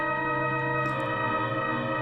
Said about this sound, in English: It's basically a full wet reverb, and the decay increases as you turn the dial.